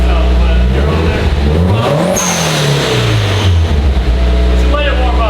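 A car engine, just repaired after a cracked manifold, revs hard in repeated rising and falling sweeps, loud and close, with voices talking over it.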